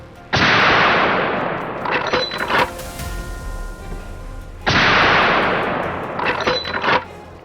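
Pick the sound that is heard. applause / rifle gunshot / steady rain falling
rifle gunshot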